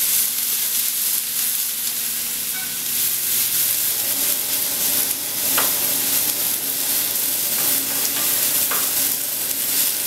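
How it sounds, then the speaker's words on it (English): Vegetables stir-fry in hot oil in a shaken pan, a steady loud sizzle with repeated scraping stir strokes and a few sharper tosses, no voices. "we just want to shake it up like so and start getting going with my stir fry veggies"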